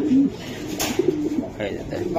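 Racing pigeons from a club loft coo close by, low rolling calls sounding repeatedly over a few seconds, mixed with someone talking.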